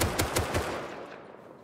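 Rapid burst of video-game gunfire, about four close, loud shots in quick rhythm that then ring out and fade over the following second.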